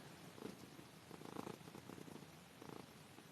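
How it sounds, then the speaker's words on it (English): Quiet, close cat purring in a rhythmic rumble, pulsing in soft repeated waves with no talking. "That's what all the purring was."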